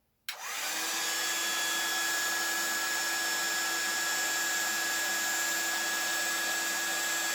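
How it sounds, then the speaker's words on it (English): A heat gun on its hottest setting clicks on and then holds a steady, loud whirring blow while heating a plastic bottle to shrink it, continuous and close with no voices. "you need a heat gun, and I'm putting it up to the hottest setting"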